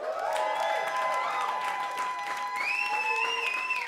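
A crowd at a live event applauds steadily, with whoops and cheers rising over the clapping throughout.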